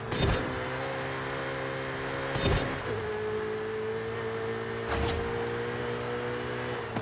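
A Ferrari F8 engine in Forza Horizon 5 holds a steady, tonal drone during a circuit lap, interrupted by a few brief shifts or bumps and a slight change in pitch partway through.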